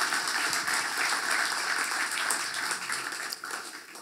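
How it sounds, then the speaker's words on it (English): A church congregation at an opening service gives a round of applause, a continuous crackle of many hands clapping, moderately loud and roomy, tapering slightly toward the end. "why don't we just give ourselves a round of applause?"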